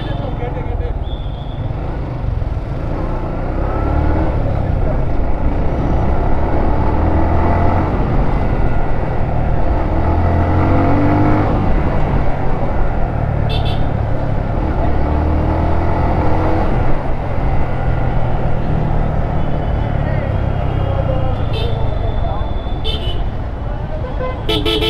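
Heavy road traffic jammed on a main road, a dense, continuous rumble of engines close by with occasional horn toots and the hum of passing vehicles, and people talking over it throughout.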